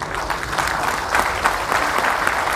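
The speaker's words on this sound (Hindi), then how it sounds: "तालियां बजती रहनी चाहिए" Sustained, even clapping fills a meeting room as an audience applauds at moderate loudness throughout.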